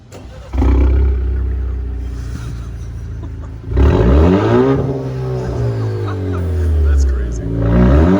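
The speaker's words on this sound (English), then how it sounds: "You want to give it some revs out here?" An Alfa Romeo Giulia with a Monza exhaust upgrade is revved repeatedly outdoors, loud roaring blips climbing and falling close by, with brief voices nearby.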